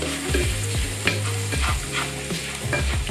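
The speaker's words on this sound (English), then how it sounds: "let me stir this up so it gets all into the" Food being stirred in a hot frying pan while preparing stuffed Yorkshire puddings, with a steady sizzle and several scraping strokes of the utensil against the pan, close and fairly loud, no talking.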